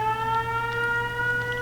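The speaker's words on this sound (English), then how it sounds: "it does not, as far as I'm aware, influence the sound that the siren makes" A siren at a Fallout 4 video game settlement blares as a loud, steady multi-tone wail, unbroken for the whole stretch, with no voices.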